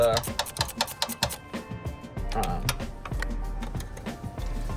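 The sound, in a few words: tightening bolts on a Mack truck air pump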